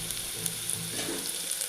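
Ginger and masala frying in oil for a fish curry, giving a short, steady crackling sizzle close by with no talk.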